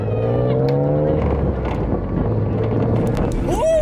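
A Nissan Skyline GT-R drives along with a steady engine drone and harmonic whine that rises near the end, under heavy road and wind rumble.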